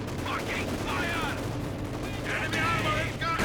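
Gunfire in Company of Heroes 2, with an MG-42 and shock troops fighting around a house, rattles steadily in the background beneath continuous voice commentary.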